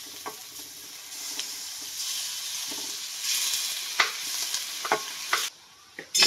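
Pork frying in a pan with sautéed garlic and onion for pork adobo, a steady sizzle with scattered stirring scrapes and clinks, close and fairly quiet, no talking.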